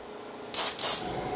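Two short bursts of black hair colour spray misted onto a haircut lineup, each a close, loud hiss lasting about a quarter second, the pair separated by a brief pause.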